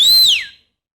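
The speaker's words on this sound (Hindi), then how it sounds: "सीटी मार के दिखाओ" A man whistles one loud, close, shrill note that slides downward and fades within about half a second, alone without talk.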